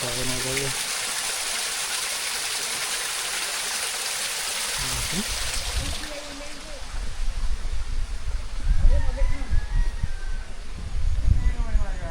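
Water rushing and streaming in a mountain setting on St. Thomas, a loud continuous gush that swells partway through, with voices talking over the flow.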